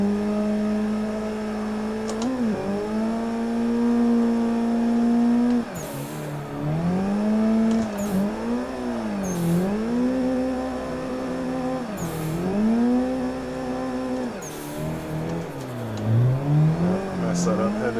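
A drifting car in the Assetto Corsa racing game holds a droning engine note that repeatedly rises and dips with throttle, broken by short bursts of tire squeal across a long continuous run, with a voice talking occasionally.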